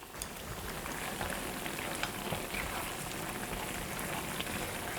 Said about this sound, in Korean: 그래서 다시 한 번 좀 더 끓여주세요.